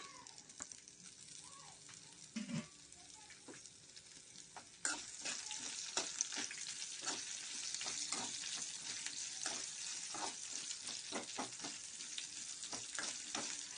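Onions dropped into hot oil with dried red chillies for ginger chutney: quiet at first, then a sudden burst of loud, steady frying sizzle around the midpoint, with repeated stirring clatters continuing close by.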